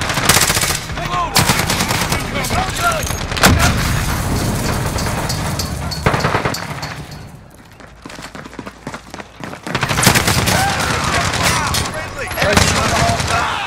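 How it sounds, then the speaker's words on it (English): Rapid automatic gunfire in Call of Duty: Modern Warfare multiplayer, loud and dense bursts of shots rattling almost continuously, easing briefly midway before the shooting resumes at full intensity. "They're shooting at me."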